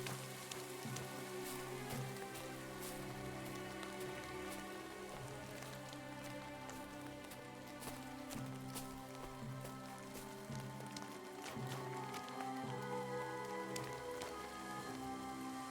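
Steady rain pours down in Kingdom Come: Deliverance II, a constant even hiss of drops on surfaces holding at an unchanging level throughout, with no voices over it.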